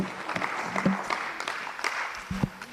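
Applause from the crowd at a women's economic forum in Kenya: scattered, uneven hand claps with individual sharp slaps standing out, moderately loud, with faint voices murmuring underneath.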